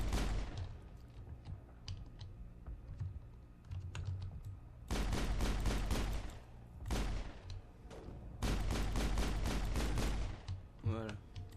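Rapid gunfire bursts in the Mass Effect video game, loud repeated automatic volleys in two long stretches with shorter shots between, while a player talks excitedly over the action.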